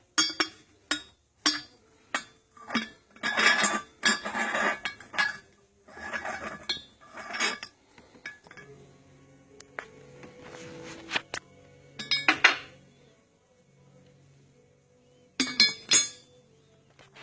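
A porcelain teapot lid from a 24-piece tea and cake set clinks repeatedly as it is handled, with sharp, close glassy taps coming in scattered bursts and quieter pauses between them.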